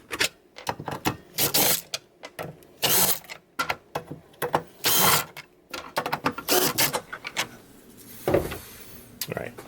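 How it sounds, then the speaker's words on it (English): A screwdriver backs out flathead/T20 Torx screws from a miter saw insert in a series of short, close whirring bursts separated by quiet gaps, with faint clatter between them. "I'm going to take my driver, and this is these screws are actually both a flathead and a T20 Torx."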